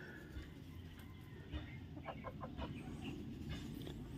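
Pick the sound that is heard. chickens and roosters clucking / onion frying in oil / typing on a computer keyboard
chickens and roosters clucking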